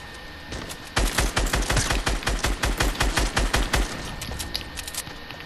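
Rapid bursts of Fortnite gunfire, a dense string of loud close shots fired in quick succession for about three seconds, then tapering into sparser, fainter pops.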